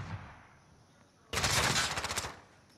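Video game gunfire in a cyber-attack shooter: a sudden loud rapid burst of automatic fire lasting about a second, with a faint voice briefly beforehand.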